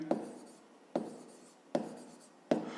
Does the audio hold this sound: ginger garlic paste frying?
no